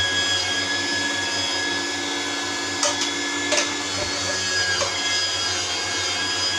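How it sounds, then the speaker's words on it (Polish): An electric meat grinder runs with a steady loud motor drone while mincing peppers through a fine plate for a pepper sauce preserve, with a couple of brief clunks as pieces drop in and no talking. "włączam maszynkę i wrzucam paprykę"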